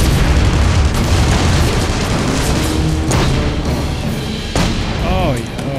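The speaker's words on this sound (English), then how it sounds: "Let's test out my new gun." A newly acquired gun fires in The Saboteur, with loud booming shots and bursts over a dense game soundtrack, a few sharp cracks standing out and a voice briefly heard near the end.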